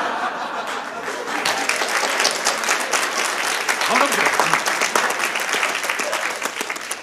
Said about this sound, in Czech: Tak jsme si zatleskali, ale vrátíme si širáky.